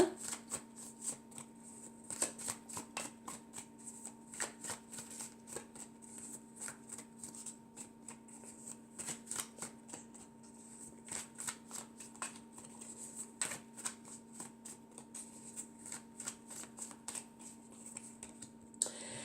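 Tarot cards are shuffled close up in a quiet room, a long run of rapid soft riffling clicks and flutters that comes in bursts, faint and steady throughout, with no talking.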